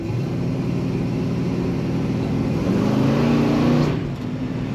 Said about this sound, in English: Tires break free nearly immediately, and that was dry pavement right there.